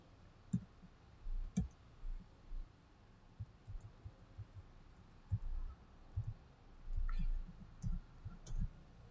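Quiet, irregular clicks of typing on a computer keyboard, in short bursts and single taps with pauses between, no talking.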